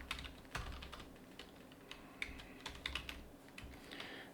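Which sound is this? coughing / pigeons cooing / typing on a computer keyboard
typing on a computer keyboard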